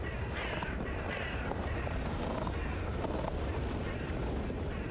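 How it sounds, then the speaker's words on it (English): Big bird cawing in a fantasy video game, harsh repeated caws over a dense, rumbling game soundscape that stays loud throughout, with calls recurring at irregular intervals. "It's one of these big birds here somewhere."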